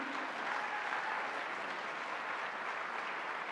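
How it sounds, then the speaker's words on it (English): Audience applause at a presidential opening ceremony address as the speaker leaves the stage, a dense, even wash of clapping from a large crowd that runs unbroken throughout, moderately loud and without speech. "A round of applause, ladies and gentlemen."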